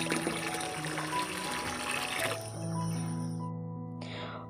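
Bath water poured and trickling into a container at home, a steady liquid splash that shifts tone partway through as the vessel fills, with a brief voice underneath.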